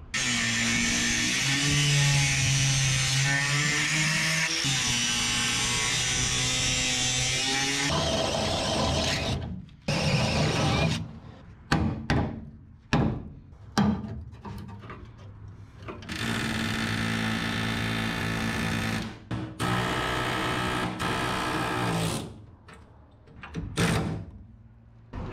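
A power drill whines and bites through car body metal, drilling out spot welds on a 1961 Chevrolet Parkwood wagon in repeated bursts, with sustained grinding runs separated by short stops and quick restarts, close and loud.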